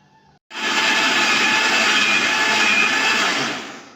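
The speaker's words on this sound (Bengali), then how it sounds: "এখন আমি সব উপকরণগুলো ব্লেন্ডারে ব্লেন্ড করে নিব" An electric blender whirs loudly and steadily for about three and a half seconds, blending milk sherbet made with sweet yogurt, starting abruptly after a brief quiet moment and staying constant until it winds down.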